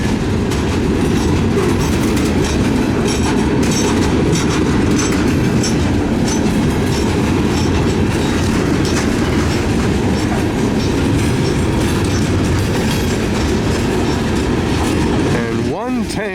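CSX 2063 leads a local freight train of open rock hoppers and a tanker past on the Clearwater subdivision in Largo, Florida, with a loud, continuous rumble and rhythmic clatter of wheels close by and a short squeal near the end.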